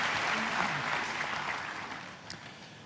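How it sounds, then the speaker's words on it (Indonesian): A church congregation at a Sunday service claps for the worship team, giving dense, sustained applause that slowly fades over a few seconds. "Boleh kasih tepuk tangan yang luar biasa buat tim Praise and Worship kita."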